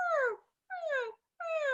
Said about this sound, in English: I am so glad I don't have the only dog barking